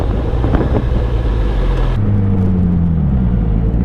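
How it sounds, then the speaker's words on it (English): A truck rumbles past loudly on a city street, heard from a motorcycle in traffic, a steady heavy engine drone that changes pitch midway as it passes close by. "Just like this truck right here."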